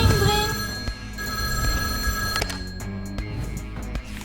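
An old-style telephone bell rings loudly in a short film, a rapid metallic trill repeating in bursts with a buzzy background underneath.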